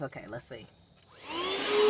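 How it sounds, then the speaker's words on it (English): A small handheld vacuum cleaner starts up after a brief spoken phrase and rises into a loud, steady whine as it cleans a dirty car floor. "with my little vacuum cleaner, boo, watch what it does"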